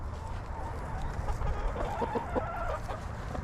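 Roosters clucking and squabbling through chicken wire as they try to fight, a few short calls rising over steady, noisy outdoor background.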